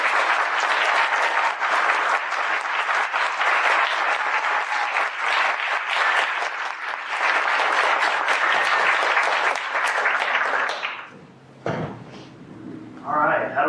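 Sustained audience applause at a mock trial, steady dense clapping for about eleven seconds, then a brief dip with a thud and a few scattered claps as it dies down.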